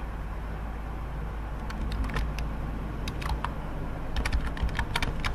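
Typing on a computer keyboard in short bursts of quick clicky keystrokes over a low steady hum, close and fairly quiet, with no voices.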